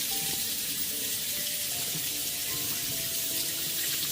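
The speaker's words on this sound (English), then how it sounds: "Now I'm going to rinse off the face." Water from a tap runs steadily over the vinyl face of a Baby Dear Vogue doll being rinsed in a sink, a continuous close hiss and splash with no talk.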